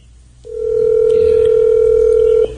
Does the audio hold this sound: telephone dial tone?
yes